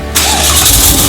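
A Porsche 993 Carrera 4S engine cranks and catches, then settles into a loud, steady rumble right up close.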